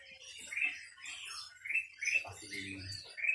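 Bright, repeated chirps from a caged songbird at the Pramuka bird market ring out close by, mixed with people talking nearby.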